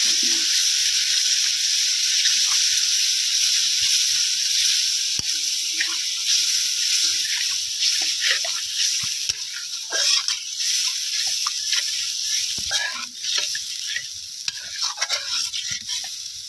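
Egg curry gravy with added water simmers and bubbles in a pan, giving a steady close hiss with scattered soft pops and occasional stirring sounds.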